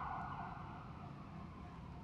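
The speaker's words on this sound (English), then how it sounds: "ambulance going by, it's chaos here." Ambulance and police sirens wail steadily past on a city street, loud and continuous over traffic rumble, with no voices.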